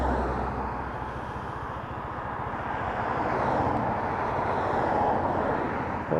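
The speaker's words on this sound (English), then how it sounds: "The bike is still idling fine," A Lexmoto Titan motorcycle engine idles steadily close by, a continuous low mechanical drone with a faint rhythmic pulse, swelling slightly louder toward the end.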